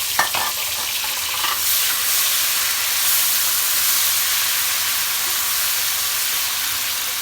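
Tomato and green chili paste hits browned onions in a hot pan, bursting into a loud, close, steady sizzle and hiss with brief stirring at the start, and no voices.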